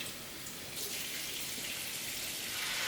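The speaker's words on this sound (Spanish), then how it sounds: "Si tienes un grifo cerca de la sartén, hazlo así" Water from a tap pours into a pan during cooking of oven-baked rice, a steady hissing splash that grows fuller partway through and continues evenly, close and fairly quiet.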